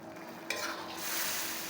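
Spoon stirring a simmering ground pork stew with carrots and potatoes in a pot, a scraping clink then soft bubbling and sizzling, quiet and close, no talk.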